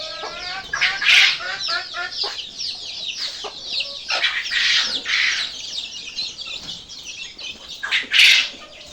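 A flock of baby chicks chirps constantly in high, busy peeps while trailing a person who is feeding them, with a hen clucking close by and occasional outdoor movement noise.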